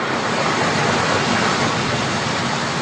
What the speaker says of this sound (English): engineers deploy powerful diesel pumps. and run them 24 hours a day, ejecting any water that remains within the walls